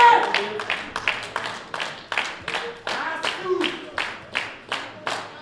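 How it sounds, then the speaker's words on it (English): A crowd at a world equipped bench press championship cheers and claps in a steady rhythm, sharp repeated hand claps about twice a second, loud and close, with voices shouting among them. "Crowd really getting behind him here."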